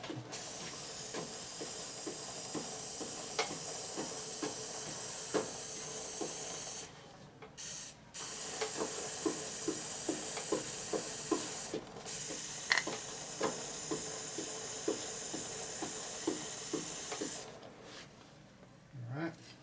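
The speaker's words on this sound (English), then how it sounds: "It's just extra chain lube you're burning up, so I'm going to put some more on the inside here." Aerosol chain lube sprayed from a can onto a motorcycle chain on an Evo-engined rigid bobber chopper, a steady hiss in long bursts broken by short pauses, close and fairly loud, with faint rhythmic clicks beneath.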